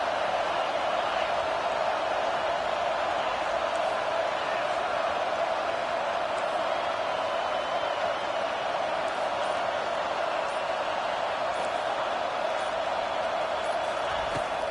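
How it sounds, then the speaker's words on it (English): Steady stadium crowd roar from a college football video game, a continuous broadband wash of massed voices holding at an even level throughout with no distinct cheers standing out. "this crowd trying to help keep them there"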